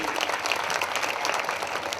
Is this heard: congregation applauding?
yes